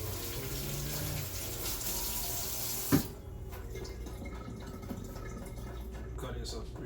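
A kitchen faucet runs steadily while hot peppers are washed for a fried fish dinner, a close, continuous splashing rush that cuts off abruptly partway through, then lighter drips and handling, with a voice speaking over it.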